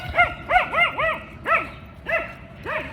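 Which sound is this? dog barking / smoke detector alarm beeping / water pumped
dog barking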